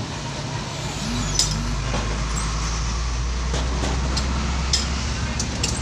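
Steady traffic at a motorway toll plaza, a continuous low rumble of vehicles with a few passing swells, faint voices beneath the noise.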